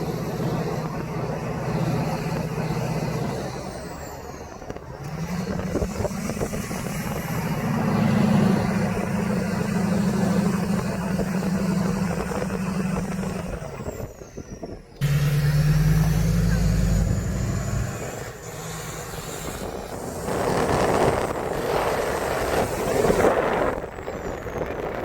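A rebuilt Duramax 4x4 truck drives on the road, its engine droning steadily, loud and close throughout, with a brief break midway before the rumble resumes.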